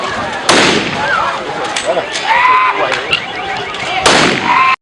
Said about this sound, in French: Voici les 4 coups qui lui ont été fatals.